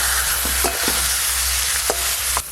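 Hilsa fish heads seasoned with salt and turmeric fry in a pan with a constant close sizzle, while a few sharp scraping stirs break through.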